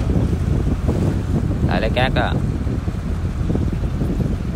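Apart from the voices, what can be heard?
boat arriving at the dock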